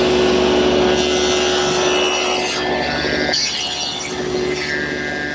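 A table saw cuts a piece of wood held against a miter gauge stop, giving a steady close whirring rasp that shifts in pitch as the blade bites, with brief changes near the end.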